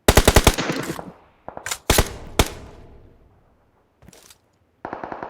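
Gunfire in a battle royale shooter video game: a rapid burst of about eight loud shots, then separate single and double shots trailing off, a brief crack and a closing short burst.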